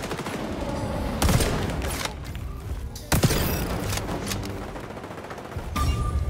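Gunfire in the online shooter XDefiant, with loud bursts of rapid shots and heavy booming impacts over a constant rumble of game noise, arriving in about three separate clusters.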